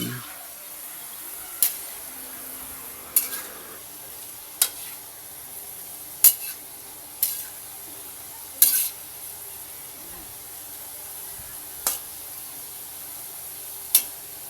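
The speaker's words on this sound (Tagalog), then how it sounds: "hayaan lang natin mga 3 minutes at pwede na nating baliktarin" French fries fry in a pan of oil in a home kitchen, giving a constant soft sizzle broken by occasional sharp taps of a utensil, close by and steady throughout.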